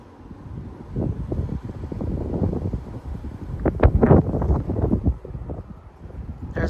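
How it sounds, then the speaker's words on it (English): Strong gusting wind from a West Texas dust storm buffets the microphone in rough, surging bursts, swelling to a loud peak midway before easing slightly, with no speech. "There's another good gust."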